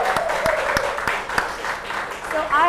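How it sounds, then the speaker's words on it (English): Audience applause at a live podcast event, a burst of scattered claps under a loud crowd and a speaker's amplified voice, with cheering rising at the end. "So a round of applause for the OGs!"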